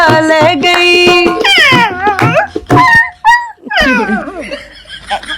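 A dog howls and yelps loudly along with a Punjabi song, its wavering, pitch-sliding vocal cries rising and falling close by, mixed with a person's singing and laughter.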